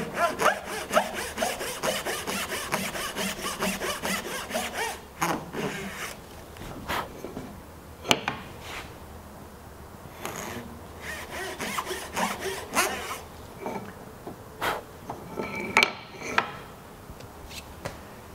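Hand saw cutting a shoji tenon in wood, close rhythmic rasping strokes, quick and regular at first, then slower and more spaced, with a few knocks and pauses between bursts.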